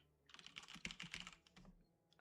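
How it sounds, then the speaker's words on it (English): A burst of rapid keystrokes on a computer keyboard, close and fairly quiet, with an uneven clatter of taps that trails off into a pause and then a final tap. "I tried typing edit."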